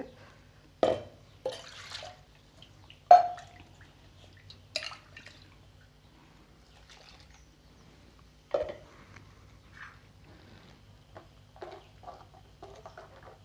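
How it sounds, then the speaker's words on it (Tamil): Water is poured into a pot of village-style mutton curry, heard as a few separate splashes and drips with quiet gaps between them, close by and soft. "பாருங்கள் தண்ணி ஊற்றியாச்சு"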